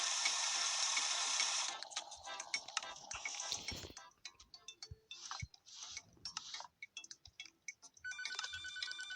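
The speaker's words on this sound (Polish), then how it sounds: "Już kolejny telefon." A telephone rings inside the video game Papa's Mocharia, an electronic ringtone mixed with clicking game effects and short chimes, fairly faint and busy throughout, ending in a bright repeating ring pattern.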